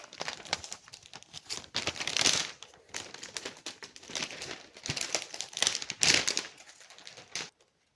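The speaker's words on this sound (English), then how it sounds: "rip through the sleeve. Just rip it out of that." A plastic sleeve being ripped off a vinyl record, heard as bursts of loud, close crinkling and tearing in two main waves across the clip, ending abruptly in silence.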